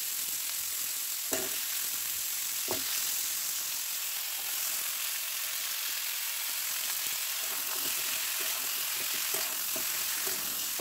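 Food sizzles and simmers in a pot on a stove in a village kitchen, a steady soft hiss with a couple of faint clinks of stirring, no voices.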